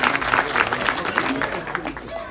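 A crowd at a religious Shiv katha gathering claps for a performer who plays Ram, brisk rhythmic applause mixed with murmuring voices and talk.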